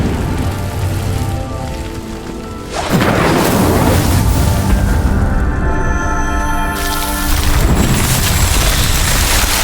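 In a video game, a fire spell ignites a pyre with a loud, dense whooshing roar of flame that surges twice and keeps crackling and rushing throughout.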